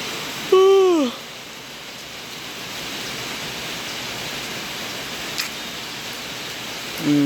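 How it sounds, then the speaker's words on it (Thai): Steady, even hiss of morning rain falling continuously after an all-night downpour, with a brief voice-like sound near the start and end. "นี่นะฝน ตก แต่ เช้า นะพี่"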